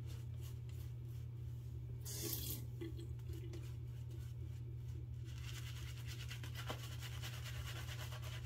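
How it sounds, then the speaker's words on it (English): A little water is added, with a short splash and trickle standing out over a steady low hum, followed by fainter running water later on, and no voices. "I'm going to add a little bit of water."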